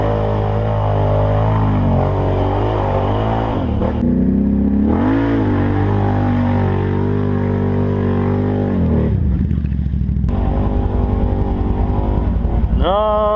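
ATV with a 420 engine on Mega Mayhem mud tires revs hard through mud, loud and continuous with rising and falling engine pitch, brief dips and surges throughout.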